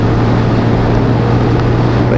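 Keeway RKS motorcycle accelerating on a ride test, a loud, steady engine drone with constant wind rush over the microphone throughout.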